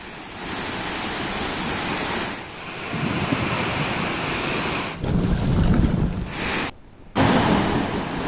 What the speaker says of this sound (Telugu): గుండాల జలపాతం నూట ఇరవై ఐదు మీటర్ల ఎత్తు నుండి ప్రవహిస్తూ కనువిందు చేస్తోంది